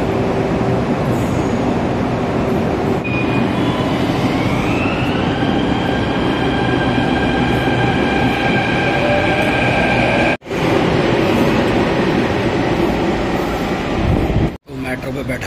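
A Delhi-area metro train bound for Ghaziabad hums and rumbles steadily as it pulls away, with a rising whine from the motors and a couple of sharp clunks near the end.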